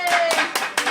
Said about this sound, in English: Can we all have a round of applause,